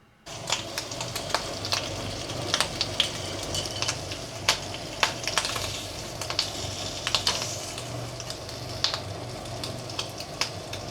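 Bacon frying in a pan gives a steady, close sizzle with frequent small crackles and pops that runs throughout without a break.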